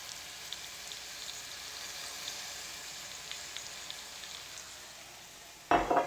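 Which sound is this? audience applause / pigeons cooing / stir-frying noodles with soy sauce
stir-frying noodles with soy sauce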